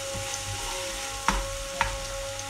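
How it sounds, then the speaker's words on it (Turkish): Steady crackling sizzle of onions frying in a pan, with a couple of brief sharper scrapes or taps standing out midway. "İyice pembeleşinceye kadar soğanımı kızartacağım"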